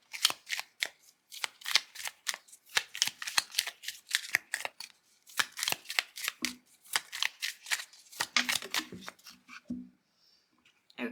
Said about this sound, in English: you might want to split it in two and shuffle it that way.